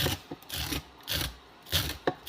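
Scraping leftover flesh off food, several close, rough rasping strokes in short bursts with brief quiet gaps between them.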